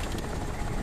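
Helicopter in the video game Crysis, a steady broadband rotor and engine roar held at an even level throughout the brief moment, with no talk over it.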